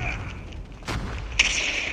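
Gunfire in Call of Duty, with one sharp shot near the middle and another louder crack later, over a steady rumble of game background noise.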